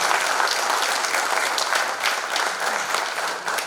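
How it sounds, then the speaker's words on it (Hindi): Loud, steady applause from a large audience at a public event in Shimla, dense clapping sustained throughout without a break. "जोरदार तालियां मैं चाहूंगा सभी शिमला वासियों के लिए।"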